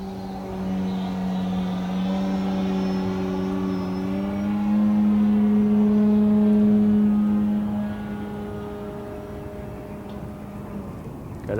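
A radio-controlled model airplane flies its landing approach over a mown grass field on a still, windless day, its small engine holding a steady buzzing drone that rises slightly in pitch midway, then eases off and fades as it descends.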